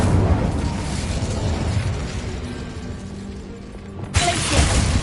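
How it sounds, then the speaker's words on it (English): An Incendio fire spell cast in a video game, a sustained roaring, crackling whoosh that swells and holds, then ends in a sharp burst near the finish. "Incendio."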